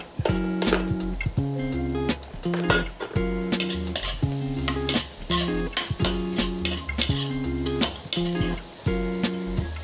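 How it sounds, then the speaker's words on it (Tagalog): Garlic, onion and ginger sauté in a pan for a clam soup, bright sizzling under repeated rhythmic scraping and clanking of a utensil against the pan, no voices. "pagsasamahin na natin bawang, sibuyas,"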